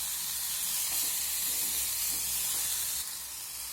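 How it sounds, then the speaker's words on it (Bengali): Onion, tomato and pointed gourd seeds stir-fry in a pan with a steady, close hissing sizzle and faint scraping of stirring, easing slightly near the end. "এখন সব কিছু নাড়াচাড়া করে ভেজে নিতে হবে"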